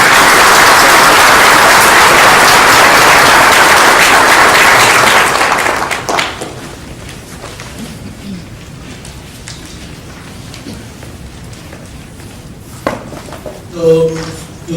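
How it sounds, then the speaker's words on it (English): Loud, dense audience applause welcoming a panel fills the first several seconds, then fades out, leaving quiet room noise and a brief bit of speech near the end. "Please welcome the panel with a big round of applause."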